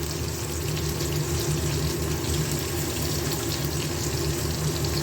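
Eggplant pieces frying in hot oil in a home kitchen pan with the gas turned up, a steady dense sizzle and crackle, close and continuous with no talking.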